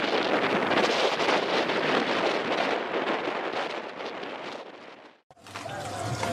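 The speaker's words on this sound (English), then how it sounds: "Constant strong winds up to 50 knots." Strong gusting wind, up to 50 knots, buffets a sailboat lying at anchor, roaring loud and steady for about five seconds before a brief drop to near silence, then resuming with lighter rushing air and faint sounds aboard.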